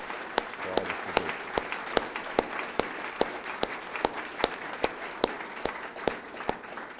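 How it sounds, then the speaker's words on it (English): An audience at a National Park Trust award event applauds, steady clapping with a handful of sharp, evenly spaced claps standing out close by over the wash of the crowd. "let's give you a round of applause for all that you do"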